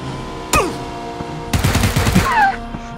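Gunfire in the PUBG battle royale video game: a sharp single shot, then a rapid burst of automatic fire lasting about a second, loud and close, with faint background tones.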